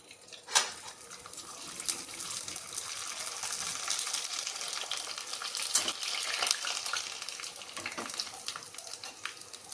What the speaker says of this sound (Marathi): आता ते तळून दाखवते तुम्हाला